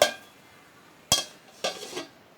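A metal lid clanks down onto a pot of light rohu fish and potato curry on the stove, with three sharp clattering hits spread across a short, otherwise quiet moment.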